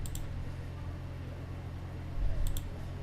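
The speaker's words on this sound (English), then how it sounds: "So just double click it to extract this zip file." Two quick mouse clicks in a computer tutorial, a pair of sharp, faint ticks near the start and another crisp pair near the end, over a steady low hum with no talking.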